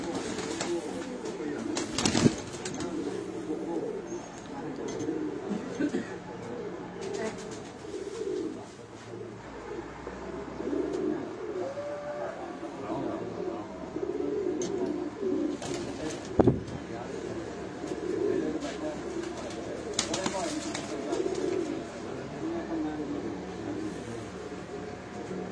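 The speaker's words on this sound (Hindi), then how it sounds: "ये उनके ब्रीडर कबूतर हैं" Breeder pigeons at a loft in Gujrat coo in low, repeated throaty rolls, faint and ongoing beneath people talking nearby, with occasional knocks and clatter.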